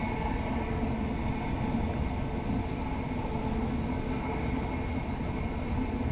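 East Midlands Railway Class 170 unit 170512 running between Lincoln and Barnetby, heard from inside as a steady, continuous low rumble of the diesel engine and wheels on the rails, with no speech over it.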